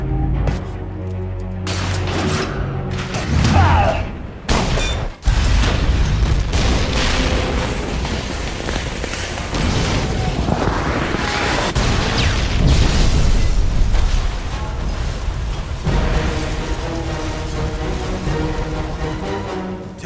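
Loud, close explosions as a tower collapses in the Captain America: Super Soldier video game, heavy booms and crashing debris layered over a dense rumble for twenty seconds, with a sharp cut at about five seconds.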